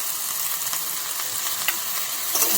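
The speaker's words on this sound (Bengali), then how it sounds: "ভালো করে নাড়িয়ে কষিয়ে নিয়ে ভালো করে ভেজে নেবো।" Eggplant, potato and young snake gourd fry in a hot pan and are stirred, giving a steady, close sizzle with a few faint scraping stirs.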